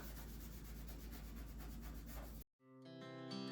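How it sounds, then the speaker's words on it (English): A scrubby sponge rubs hard across a greasy surface during household cleaning, a loud, steady scouring for about two seconds before it cuts off abruptly and music takes over. "So I'm just going to take a scrungy sponge, give it a good wiping down."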